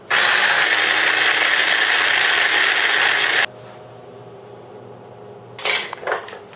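A food processor whirs loudly for about three and a half seconds, blending butter with herbs and spices such as cayenne and cumin. It then stops, leaving a quiet room and a couple of short clatters.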